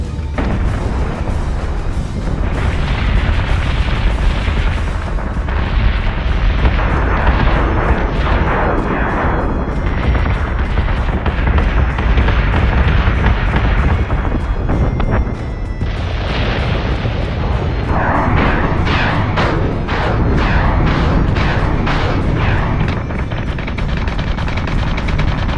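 Continuous heavy artillery fire rolls through a Battlestar Galactica Deadlock space battle, loud dense booms and bursts overlapping one another for the whole stretch with no pauses.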